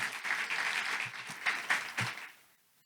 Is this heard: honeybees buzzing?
no